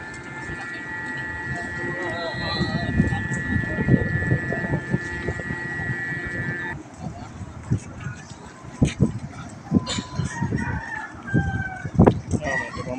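A rooster crows several times and chickens cluck around a boat arriving at port from Odiongan, Romblon, with people talking over the birds and a steady hum running through the background.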